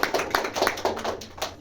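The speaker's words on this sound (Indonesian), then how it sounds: "Tepuk tangan untuk Mbak Zahra." Short burst of clapping for a student in a classroom math lesson, a few hands patting in an uneven, close patter.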